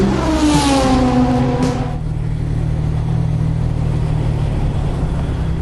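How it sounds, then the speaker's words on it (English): A Jaguar XK150 engine burbles and revs up close while climbing a ramp, the exhaust note rising briefly before settling into a steady, deep rumble. "That's the sound of the XK150's engine and exhaust burble as we travel up the ramp"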